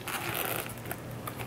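The zip pocket of a medium-size Bolzano bag is pulled open, giving a quick, continuous rasping zipper run heard up close with no talk.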